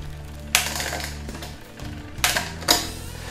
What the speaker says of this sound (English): I'm gonna do some shifting now.